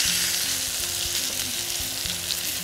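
Meat and tripe fry in hot fat in a pan, a loud, close, continuous sizzle with occasional soft stirring clatter.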